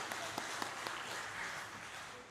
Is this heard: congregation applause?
yes